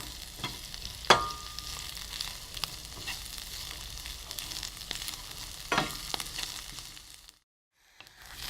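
Chopped chard stems frying and sizzling in a pan with a steady crackle, broken now and then by the sharp scrape of stirring, before a brief silence near the end.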